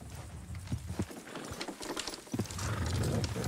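Horses in the Red Dead Redemption 2 video game clip-clop along with quiet, uneven hoof knocks and some creaking tack, faint and close, building to a denser rumble toward the end.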